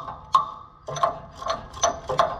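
Ratchet clicking as bolts are started during a machine service call, five short metallic bursts of ratcheting spaced unevenly across the clip, close and fairly loud.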